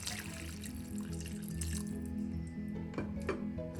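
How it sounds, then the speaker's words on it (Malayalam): Hot water poured from a glass into a simmering potato and egg curry gives a steady close trickling and dribbling that runs unbroken for a few seconds, with no voices. "ചൂടുവെള്ളം കൊടുക്കുക."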